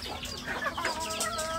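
A kampung hen clucks nearby in a short, throaty run of rising and falling calls, clear and close over a quiet farmyard background.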